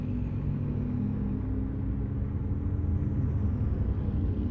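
Heavy trucks drone past on a highway in American Truck Simulator, a loud, steady low engine rumble that holds throughout with no break.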